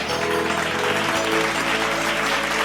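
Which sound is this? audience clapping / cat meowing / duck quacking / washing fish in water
audience clapping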